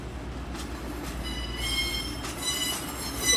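East Midlands five-car Meridian 222013 passing through Derby, with a constant low rumble and repeated high metallic wheel squeals over it, near and moderately loud.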